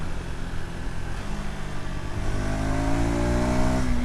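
A 2026 KTM 390 Adventure motorcycle engine revs on the road while shifting with its quickshifter and no clutch, a mid-pitched drone that steadies and then climbs louder and higher as the bike accelerates, no voices.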